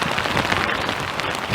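A heavy rainstorm drums steadily on surfaces outside a tiny off-grid house, a loud, dense hiss with no break and no voices.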